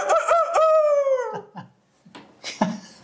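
A person imitates a rooster crowing with one long, drawn-out, wavering vocal call lasting over a second, followed by a few short, quieter vocal noises.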